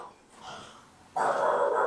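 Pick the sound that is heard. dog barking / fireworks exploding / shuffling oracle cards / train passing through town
dog barking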